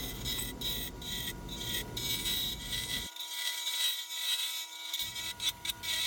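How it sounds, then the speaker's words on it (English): Acrylic pen blanks on a mandrel are turned round on a lathe, a loud, continuous scraping hiss of the cutting tool with a steady motor hum and brief irregular catches and dropouts throughout. "Here we're just getting both blanks round, shaving them both down a little bit."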